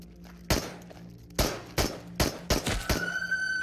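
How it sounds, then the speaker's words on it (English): Full-auto gunfire from an enemy in the video game Into the Radius, several sharp separate bursts of shots at irregular intervals, loud and fairly close, ending with a quick rattling cluster. "Just wait until he stops shooting. Ah, oh, shit, that's a full auto."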